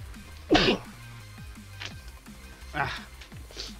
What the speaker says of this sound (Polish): Chce mi się kichnąć.